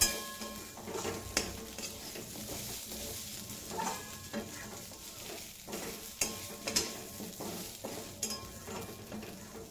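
Potatoes frying in a pan, a soft continuous sizzle broken by repeated scraping and clinking stirs of a utensil against the pan, at close range with no talking.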